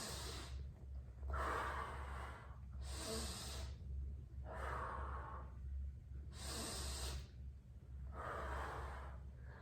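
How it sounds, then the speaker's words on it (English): Slow, deliberate breathing during a pelvic floor exercise, with audible inhales and exhales alternating in a steady rhythm about every second and a half, close and breathy with no speech. "we're going to inhale and exhale as we go to the right"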